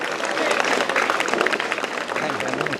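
An audience claps for students at an award ceremony, a sustained bright patter of many hands, fairly loud and close, with voices speaking beneath it.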